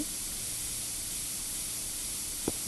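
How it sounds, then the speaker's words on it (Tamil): Air freshener spray in the video game Internet Cafe Simulator 2, a steady broadband hiss held for the full length at moderate level, with a brief soft knock near the end. "ஸ்ப்ரே நிற்க மாட்டேது."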